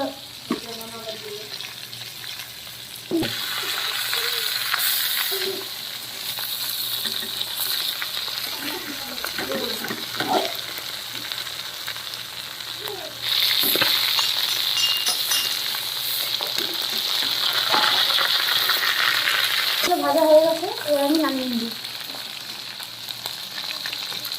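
Chicken leg pieces, four at a time, sizzle and spit in hot oil in a pan for a country-style spicy chicken kosha, the frying swelling louder in stretches with occasional stirring clinks and brief voices in the background.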